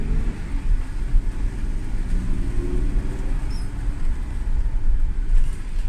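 A fuel-injected car with an electronic throttle drives along while its engine revs rise and fall, a steady low rumble running throughout with mild swells in loudness.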